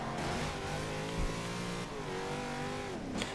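Race car in the Forza Horizon 2 video game accelerating hard, its engine whining steadily upward in pitch with a brief dip, loud and continuous with no talk over it.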